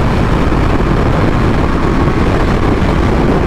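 Kawasaki Ninja H2 supercharged motorcycle on its first ride, a loud, dense engine roar and wind rush that holds steady and close throughout, filling the whole clip with no voices.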